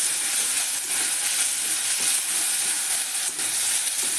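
Ground spice paste frying in a pan, giving off a loud, steady sizzle and hiss that carries on without a break.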